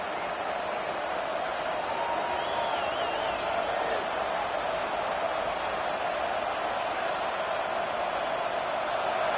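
Stadium crowd noise from an NCAA college football video game, a steady, dense roar of fans that holds at an even level throughout, with a faint whistle-like tone rising briefly over it.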